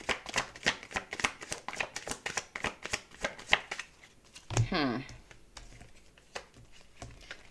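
Tarot cards riffled and shuffled by hand in a rapid run of crisp, close flutters and slaps. A voice speaks partway through, then a few softer card taps follow.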